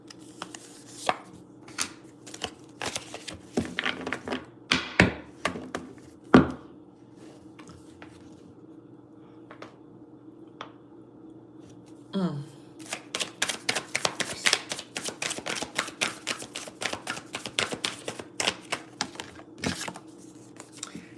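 Tarot cards shuffled by hand close up, with a steady run of crisp taps and flicks, a heavier thump midway, then a quick riffle followed by rapid, dense card snaps. No one speaks.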